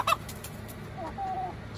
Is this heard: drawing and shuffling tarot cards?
no